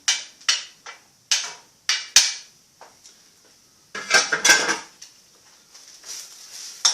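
A spoon stirs and turns pasta with garlic in a pan, making sharp metallic clinks and scrapes in uneven bursts. The sound is close and fairly loud, with a busier, rattling stretch midway and no talking.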